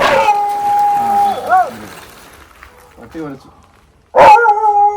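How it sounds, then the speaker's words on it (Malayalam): A dog at home gives a few short howling barks, the loudest one near the end, mixed in with people talking close by. "പട്ടി കേട്ടോ"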